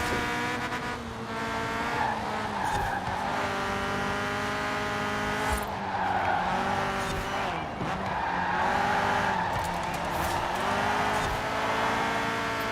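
Forza Horizon 4 race car engine roars continuously at high revs, its harmonic whine rising and falling through gear changes, with sustained tire squeal and skidding throughout, loud and close with no talking.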